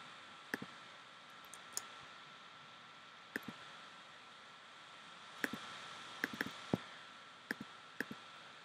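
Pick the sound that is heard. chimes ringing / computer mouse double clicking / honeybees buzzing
computer mouse double clicking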